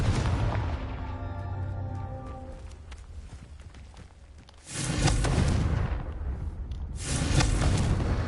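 Confringo spell blasts in the video game Hogwarts Legacy, two heavy booming explosions bursting out one after another over a low rumbling background.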